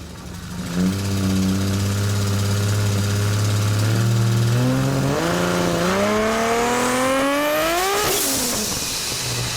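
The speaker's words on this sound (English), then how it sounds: "This is our dyno run on basically our street tune" Toyota Supra with a 2JZ-GTE VVTi engine on a chassis dyno, loud and continuous, its drone climbing steadily in pitch through the rev range over several seconds before peaking and easing off near the end.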